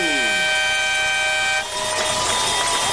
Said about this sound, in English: Hope that woman's air horn runs out of gas here soon.